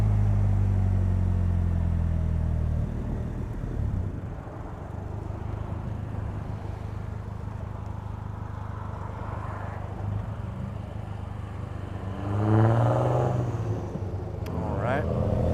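A 2017 Polaris Slingshot driving and accelerating, its engine a steady low rumble up close that swells briefly near the end, with a voice talking over it.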